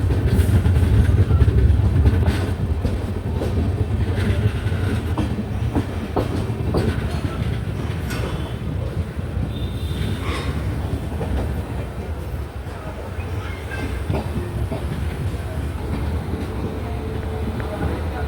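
A Pune–Kanniyakumari Express pulls into Thiruvananthapuram Central, a steady rumble of wheels with rhythmic clicking over rail joints and occasional squeals, heard from on board with a voice talking now and then.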